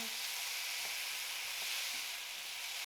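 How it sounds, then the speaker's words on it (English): Garlic and onions fry in a pan with a steady, soft hiss of sizzling oil, joined by a few faint stirring clicks near the end. "Now we're gonna add the fresh garlic, and we're gonna cook these until the onions are translucent"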